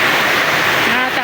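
Rain drumming on a tin roof during a light rain, a dense steady hiss of close, loud patter with no breaks, while a voice talks briefly underneath.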